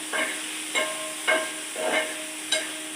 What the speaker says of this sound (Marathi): तेलामध्ये म्हणजे थोडंसं पनीर फ्राय करून घ्यायचं आहे